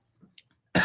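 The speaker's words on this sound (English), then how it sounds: "this cough's fucking hectic" A single sharp, close cough bursts out at the end after a few soft throat noises and breaths, loud against near silence.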